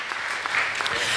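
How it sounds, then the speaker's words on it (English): An audience at a startup pitch competition claps for a judge, a steady, fairly loud wash of many hands applauding throughout the short moment. "Big applause for Thomas."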